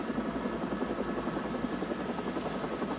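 Helicopter in flight in a dramatized Chernobyl scene, a steady loud rotor thrum with rhythmic chopping pulses over a low engine drone, continuous throughout.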